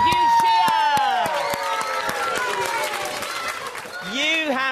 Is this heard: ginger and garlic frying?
no